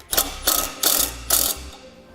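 A ratchet with a 10mm socket tightens the screws on a long mounting bracket for a towed-vehicle wiring kit, four quick, crisp clicking bursts close up with no speech.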